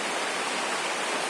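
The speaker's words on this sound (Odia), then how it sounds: "ଦେଖ ଟିକେ ସୁନ୍ଦର ବର୍ଷା ହଉଛି।" Steady rain falls outdoors as a dense, even hiss, close and moderately loud, unbroken and without talk over it.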